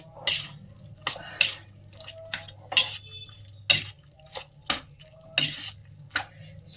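Spinach juice mixed with hot water poured into a cooking vegetable curry in a home kitchen, heard as a series of close, sharp splashing and dripping bursts with faint utensil clinks, no talking.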